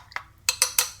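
Eggs and onion are whisked quickly in a bowl, giving four or five sharp, close clinks of utensil against the bowl in a fast rhythm, with no talking.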